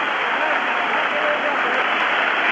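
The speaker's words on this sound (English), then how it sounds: "He gets a great ovation from this crowd at the Philadelphia Spectrum." A big crowd at the Philadelphia Spectrum gives a hockey player a sustained ovation after he ties the record of six goals in one game, a dense, steady roar of cheering and applause filling the arena.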